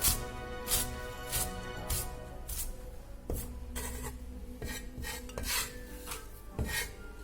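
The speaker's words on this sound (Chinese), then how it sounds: "然后把韭菜切成段儿。" Kitchen knife chopping Chinese chives into pieces on a cutting board, a series of sharp, fairly quiet cuts in an irregular rhythm, close and alone.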